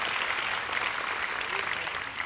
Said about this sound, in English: Applause for Dr. King, Adrienne Rich, Helen Keller.